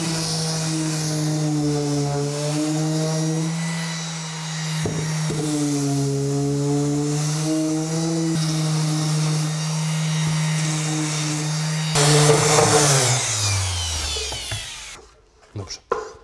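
A small electric sander works the wooden edges of a key cabinet's body, a steady droning motor hum running loud and close for about twelve seconds, then roughening briefly before winding down and stopping.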